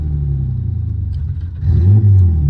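A turbocharged Nissan VQ35 V6 on a dyno idles with a low rumbling burble, then the throttle snaps open and the engine roars up loudly toward the rev limiter, close and alone.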